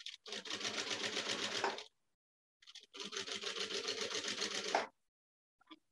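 A sewing machine stitches fabric for a baby changing pad in two close, steady runs of rapid mechanical clatter, separated by a short pause.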